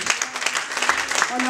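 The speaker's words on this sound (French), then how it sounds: "J'aimerais quand même que nous applaudissions pour l'Éternel" A church congregation claps in praise, a dense wash of applause with voices calling out over it, loud and close throughout.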